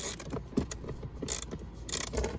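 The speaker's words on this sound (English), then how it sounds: "got a real socket on there and a real little ratchet" A small ratchet with a socket backs a bolt out of a Chrysler Intrepid blower motor, a close run of quick metallic clicks and turns coming in short bursts.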